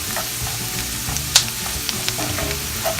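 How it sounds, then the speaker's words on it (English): Celery and other vegetables sauté in half a stick of butter, giving a steady close sizzle with soft stirring scrapes and a sharp utensil tap. "I'm going to saute it in a half stick of butter"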